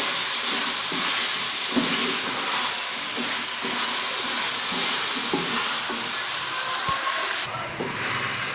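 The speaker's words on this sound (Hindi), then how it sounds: "इसके बाद ये आलू और गोभी, इन सबको मिक्स करके हम हल्का सा भूनेंगे" Potatoes and cauliflower frying lightly with spices in a pan for vegetable pulao, a steady close sizzle and hiss with faint stirring scrapes throughout, no voices.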